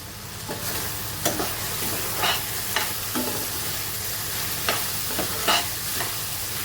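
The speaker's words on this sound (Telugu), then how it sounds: "ఇప్పుడు పచ్చెనగపప్పు వేసేస్తున్నాను. ఇలా కొద్దిగా మగ్గింది కదా" Chana dal frying in a pan with a steady sizzle, broken by sharp scraping strokes of a spoon stirring it every second or so, close and moderately loud.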